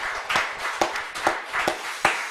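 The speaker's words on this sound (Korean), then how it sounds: "하나님께 큰 영광의 박수 한번 올려드리겠습니다" A congregation at a Friday late-night prayer meeting in a Korean church claps, with a few distinct, evenly spaced claps standing out over softer scattered clapping.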